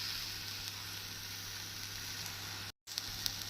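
A carrot and onion dosa cooks on a pan over medium heat, giving a soft, even sizzle that carries on steadily with a brief dropout near the end, close and quiet with no voices.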